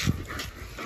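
Small dog snapping and whimpering, a burst of low yips and whines at the start, then softer fidgeting sounds, close by and alone.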